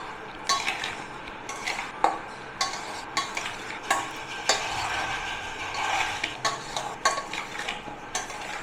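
A spoon mixes vinegar into spiced raw mango pickle in a metal bowl, repeated scraping and clinking strokes in a steady rhythm, close and moderately loud.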